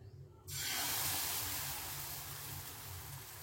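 Rava dosa batter poured onto a hot pan for instant dosa, giving a sudden loud, steady broadband sizzle and hiss that starts abruptly and holds evenly, close by, with no talking.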